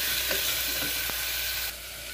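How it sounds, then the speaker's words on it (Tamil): Tomatoes, garlic cloves and black peppercorns fry in a pan, giving a loud, continuous close sizzle with soft stirring scrapes and a brief utensil tap, the hiss dropping slightly near the end. "டொமேட்டோ நல்லா சாஃப்டாக இருக்க நான் ஃப்ரை ஆக்கிடுறேன்"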